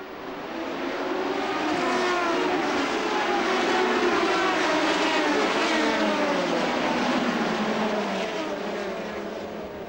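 Pack of Le Mans Series prototype race cars, including a Zytek and a Pescarolo Judd, accelerating together at a rolling race start, a dense sustained engine roar with rising and falling pitch sweeps, loud and steady throughout.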